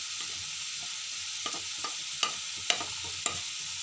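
Capsicum and potatoes frying in a pan are stirred with a spoon, a steady close sizzle broken by a few soft scraping knocks.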